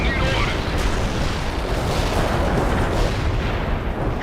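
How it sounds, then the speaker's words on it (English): Artillery barrage in the World in Conflict video game, a dense continuous roar of overlapping booms and distant shell impacts, loud and sustained. "Artillery barrage turned the target area into dust."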